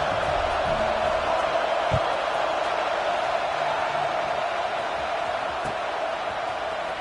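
A stadium crowd in the College Football 26 video game murmurs as a steady, subdued roar, with a low thump or two and faint sounds in the background.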